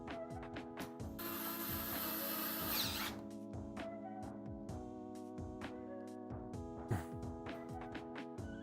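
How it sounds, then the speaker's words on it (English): Screws are driven into a Corsair 5000D PC case by hand, with short repeated ratcheting clicks and metallic ticks in a quiet room and a stretch of brief hissing rustle early on. "Of course I'm gonna put in all the screws."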